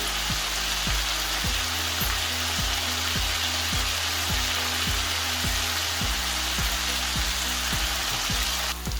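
Rice sizzles and fries in hot oil with spices, loud and close, with a steady crackle throughout. Regular soft knocks, likely from stirring, run over it, and nobody speaks.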